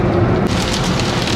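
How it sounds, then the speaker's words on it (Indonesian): Heavy rain pounds steadily on a Daihatsu Ayla during a highway road trip, a dense, loud continuous hiss and drumming heard from inside the car. "Wow, parah, hujan deras"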